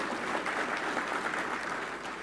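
Audience at a district Suvarna Sammelan in Belagavi clapping steadily for a speaking MLA, dense continuous applause throughout without a break.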